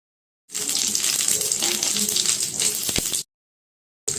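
Spices crackle and sizzle in hot oil in a kadai while making ghee rice, a loud, close, continuous hiss that starts abruptly and stops cleanly after a few seconds, with no talking.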